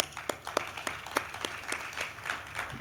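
Audience applause at a conference session launching a health research series, steady clapping from a crowd with a few sharper individual claps standing out, moderately loud and continuous throughout.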